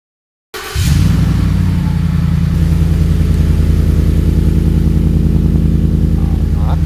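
A Ford F-150 engine fires up and settles into a loud, steady idle through JBA dual exhaust headers, a deep throaty rumble that starts abruptly after a moment of silence and runs on alone.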